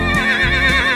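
A horse whinny used as a sound effect in a 2021 Ford Bronco Sport car advert, a loud, close, wavering neigh lasting about a second, heard alone.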